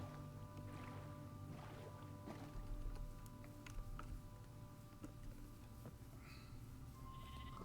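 Minecraft sheep bleating faintly in a game scene, set against a steady droning background of game ambience and music, with no voices heard.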